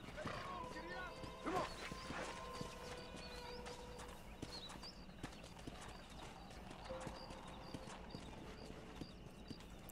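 A horse's hooves clip-clop in Red Dead Redemption, rhythmic and close, with game sounds, an occasional whinny and someone talking over them.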